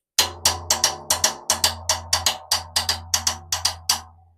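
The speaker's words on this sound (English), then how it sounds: "there's a bell player in the back, and he plays a mambo bell pattern" A mambo bell pattern struck on a single cowbell-type bell, about fourteen sharp, ringing metallic hits in a steady syncopated loop, clear and alone with no talk.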